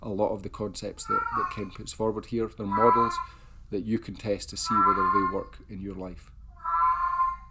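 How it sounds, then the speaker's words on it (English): A cat meows now and then in the background, faint beneath a person speaking steadily in the foreground. "You can probably hear that very red cat in the background here"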